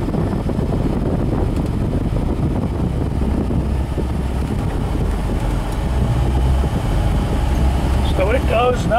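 A 1965 Ford Mustang Fastback resto-mod on a test drive, with a steady low engine and road rumble under wind buffeting and broadband cabin noise, loud and continuous throughout.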